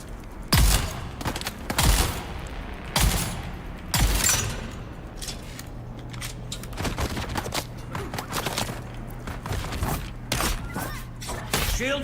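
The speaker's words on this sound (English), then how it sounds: "This is a shotgun." Shotgun blasts in the Dune: Awakening video game, a series of loud sharp booms spaced a second or so apart early on, followed by more scattered shots over a steady low hum and background game noise.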